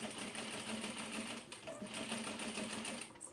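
A sewing machine stitches a seam on a denim tote, running in a fast, even whir for about a second and a half, pausing briefly, then resuming before a small click at the end; quiet and close, with no talking.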